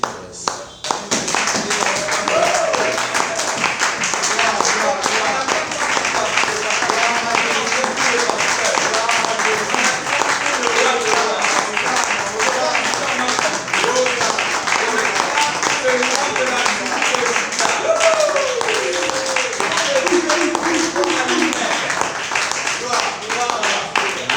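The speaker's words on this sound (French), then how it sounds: "est-ce qu'on peut simplement acclamer pour celui pour qui on est réunis en Seigneur?" A church congregation claps and cheers in sustained, steady applause lasting over twenty seconds, dense rhythmic hand claps filling the room with occasional voices calling out over it.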